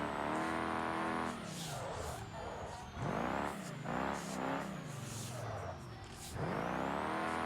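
A truck engine in the BeamNG.drive driving game revs hard and repeatedly, climbing and dropping in pitch with each throttle stab, loud and close with tire squeal and no speech.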